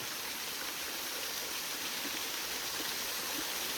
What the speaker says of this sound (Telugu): వాటర్ ఫాల్స్ ఏదో చిన్న వాటర్ ఫాల్